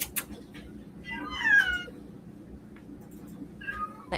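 A cat meows close by, one clear meow followed a couple of seconds later by a softer, shorter one, over quiet room noise.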